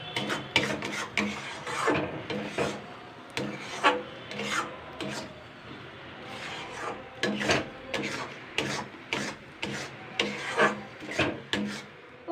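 Spoon stirring a thick boiled potato mixture in a pan for crispy aloo papad, repeated scraping strokes in an uneven rhythm, close and clear, with no talking.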